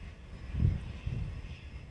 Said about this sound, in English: business jet